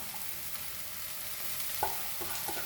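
Washed flattened rice (poha) tipped into a hot pan and stirred, a steady low sizzle of frying with a few soft scraping stirs near the end, no talking.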